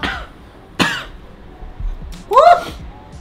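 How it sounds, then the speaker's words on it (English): Several harsh coughs and throat-clearing bursts after tasting hot chili, spread over a few seconds, close by, with a short strained vocal sound near the end. "Every time I try to say that's good, I keep coughing."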